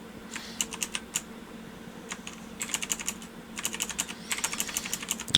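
Keys on a computer keyboard are tapped in quick, uneven bursts of clicks with short pauses between runs, close and clear against a quiet room.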